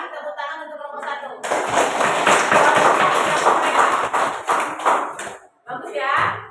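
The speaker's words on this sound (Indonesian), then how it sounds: "sekarang tepuk tangan untuk kelompok satu" A classroom of students applauds for the first group, a dense broadband burst of clapping lasting several seconds after a teacher's voice, then fading into a brief pause and more talk.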